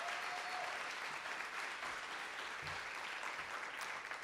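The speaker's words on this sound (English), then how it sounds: "Let's give them another big round of applause" An audience at an awards ceremony applauds a band with steady, dense clapping that holds at an even level throughout, with a faint voice buried in it.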